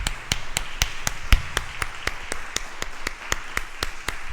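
A church congregation gives sharp, evenly spaced claps in a steady rhythm, loud and close, with no talking over them.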